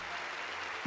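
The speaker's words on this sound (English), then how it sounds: "Give them another round of applause." Crowd applause in the Pokemon Axis video game, a steady wash of clapping that holds evenly throughout, ending with a short low thump.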